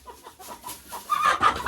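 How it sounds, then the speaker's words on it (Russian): Roosters and hens cluck in a close burst, a quick run of short throaty calls that grows louder and busier toward the end. "Боже, петухи бегают за курицами."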